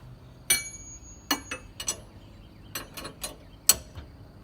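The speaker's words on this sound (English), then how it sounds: "Rotate the wrench around to where it's going to lean up against the top of the jack." A wrench braced against a jack works a bolt on a car's front end during a Mopar SRT parts swap, a sparse series of sharp metallic clanks and ratcheting clicks at close range, spaced irregularly.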